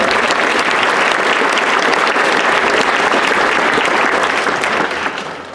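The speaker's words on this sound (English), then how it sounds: "if people would give a round of applause to the color guard" An audience at a Veterans Day ceremony at a high school in California gives a sustained round of applause for the color guard, dense steady clapping filling the whole stretch and easing off only at the very end.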